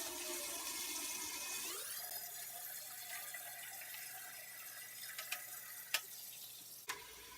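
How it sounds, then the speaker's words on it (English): Tap water runs into a large pot in a home kitchen, a steady hissing stream whose tone shifts as the pot fills, quiet and continuous with a couple of soft clinks near the end. "We are going to grab the large pot and fill it up with our water."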